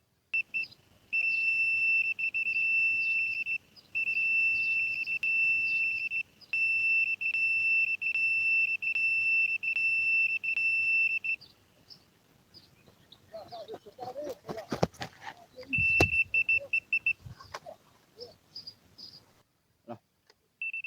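A carp fishing bite alarm beeps in a rapid, steady high-pitched run as line pulls off the reel, then gives way to close rustling and handling noise before the beeping briefly resumes.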